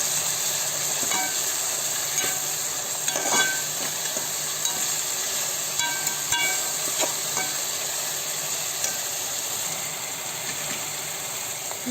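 Mint, coriander and green chillies drop into a hot pan of oil for Muslim-style white kushka, giving a steady close sizzle with scattered crackles and pops throughout, no voices.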